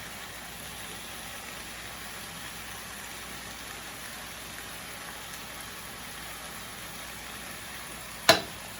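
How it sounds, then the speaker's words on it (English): Steady sizzling crackle of chicken frying in a pan for Jamaican curry chicken, even and close, ending with a brief sharp clatter. "Let it fry up."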